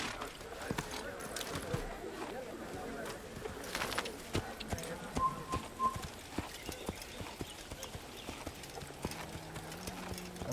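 Horse hooves clip-clop steadily in the Assassin's Creed video game, a quick, fairly faint rhythmic patter running throughout.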